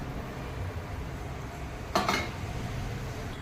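A single brief metallic clatter of a metal lid lifted off a pot of egg curry, over quiet kitchen background noise.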